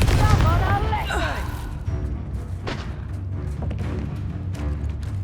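The Confringo explosive spell cast in the game Hogwarts Legacy on PS5, a loud booming blast with whooshing, crackling impacts and rumbling bursts that continue throughout, mixed with voices.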